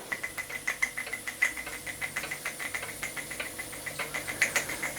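A Careast model vertical boiler steam engine runs while leaking steam, giving a steady rhythmic chuff about six beats per second with metallic ticking and a constant hiss, close and unaccompanied by voices.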